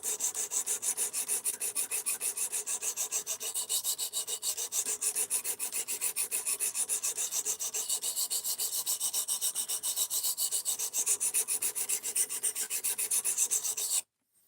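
A knife is sharpened freehand on diamond plates, giving a steady, close rasp of fast, even back-and-forth strokes, repeated without pause for about fourteen seconds before stopping abruptly.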